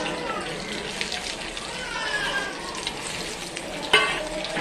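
Masala-coated minced meat fries in a wok with a close, steady sizzle and scraping stir, broken by a short sharp clatter of a spoon against metal toward the end.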